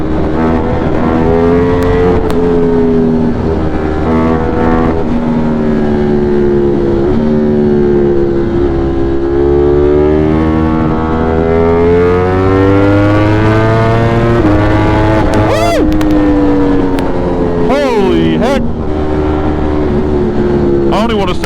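A 200+ HP motorcycle accelerating hard into a wheelie, a loud engine roar climbing in pitch through the gears over strong wind rush, close and continuous, with muffled helmet-mic talk partly underneath.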